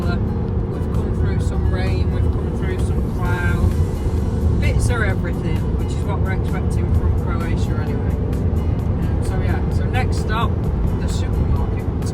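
Road traffic rumbles continuously from inside a campervan on a road trip from Hungary to Croatia, a loud steady engine and tyre drone with cars passing, and people talk over it throughout.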